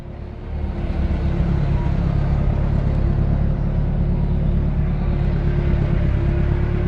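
A hydraulic boom machine picking up a load, a steady heavy engine rumble droning loudly and close for several seconds without pause.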